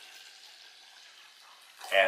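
Water is poured into tomato seed pulp fermented for 24 hours with pectic enzyme, heard as a short, loud splash at the very end after a quiet, steady hiss.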